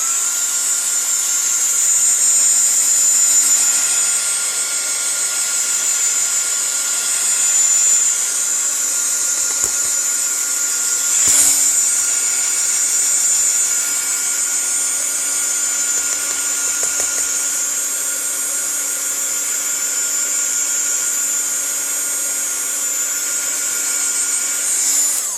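A hot air craft heat tool blowing steadily to dry stamped ink, a continuous loud whirring hiss with a high whine that holds unchanged throughout, close up, with a few faint clicks.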